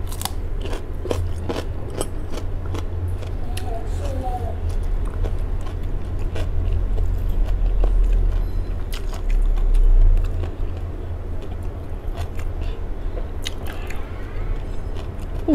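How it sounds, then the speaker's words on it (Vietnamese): Close crunching bites and wet chewing of sea grapes eaten with their stems, a steady run of crisp snaps over low background rumble, louder around the middle. "Cắn kèm với dây leo."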